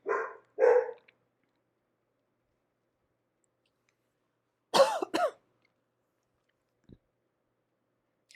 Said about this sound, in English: my dog's going to keep barking, so there's going to be muted spots in this video because of the barking